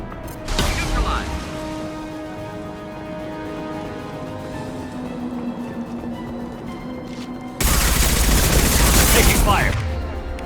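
Gunfire in the video game Mass Effect 2, a sharp blast followed by sustained rapid shooting and a second loud burst of heavy fire, with a game voice briefly calling out over it.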